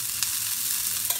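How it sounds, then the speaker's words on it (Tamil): Chickpea patties fry in oil on a dosa griddle with a steady close-up sizzle that holds an even level through the brief moment, marked by a couple of faint soft ticks. "நம்ம பேட்டிஸ்லாம் தோசைக்கல்லில் வச்சோடனே இன்னும் கொஞ்சம் எண்ணெய் மேலாக ஊற்றிக்கலாம்"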